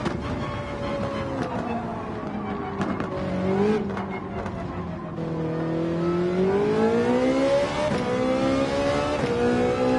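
Race car engine in a racing video game held in fifth gear at full speed, a loud, steady whining drone whose pitch dips, climbs and shifts as the car accelerates, with brief clicks early on.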